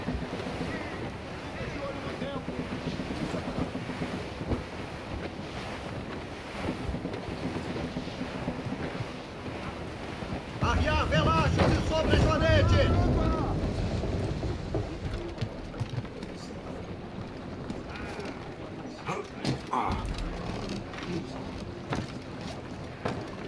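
Wind and sea wash around a sailing ship in the video game Assassin's Creed Rogue, a steady rushing bed that swells louder midway as the sails catch the wind, with a voice speaking over it.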